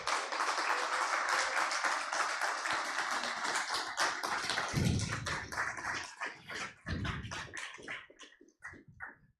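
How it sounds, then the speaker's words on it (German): A stage audience at an AI event in Graz breaks into dense, sustained applause that fills the room, then thins out into scattered individual claps before fading. "ich darf jetzt allen einen verdienten Applaus"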